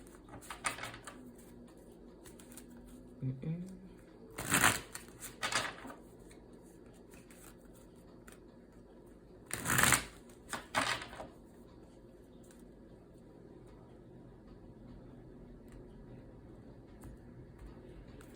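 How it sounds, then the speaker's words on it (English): A tarot card deck is riffled in a few short, crisp bursts, two pairs of quick shuffles separated by quiet pauses in a hushed room. "I'm going to go ahead and begin shuffling the Everyday Witch Tarot deck"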